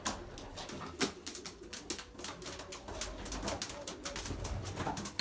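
Belgian racing pigeon hens in a spare loft coo softly over and over, the calls overlapping with faint flutters and rustling and no talk.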